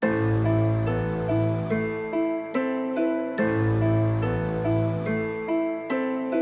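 A melodic music loop sped up to about 143 BPM, bright chime-like hits recurring every couple of seconds over sustained tones, with no speech.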